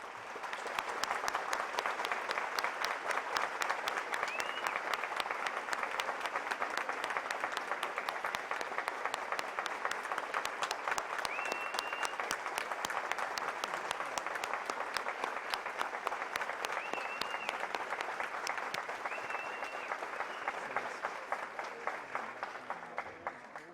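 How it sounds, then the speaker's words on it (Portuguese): A large audience in a formal solemn session gives a standing ovation to Supreme Federal Court minister Marco Aurélio Mello, dense sustained clapping that stays loud and steady for the whole stretch. "recebam com uma calorosa salva de palmas nosso homenageado"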